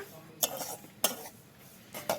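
A spoon stirs semolina frying in ghee in a pan, with three sharp scraping clinks spaced about half a second apart over a quiet, faint sizzle.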